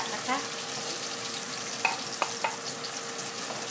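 Shallots, garlic and coriander root stir-frying in a wok, a steady broad sizzle with a few sharp clicks of a spatula against the pan, close and continuous, no voices.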